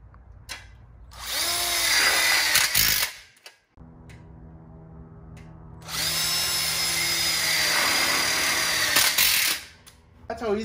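A power drill drives screws into a wrap-around backsplash and split bar overhang kit, with two long, loud whirring bursts separated by a brief pause and lower mechanical hum.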